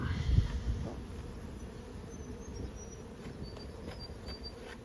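Honeybees hum steadily around an open backyard hive box during an inspection, a soft continuous buzz with a few brief louder passes near the start and no talking.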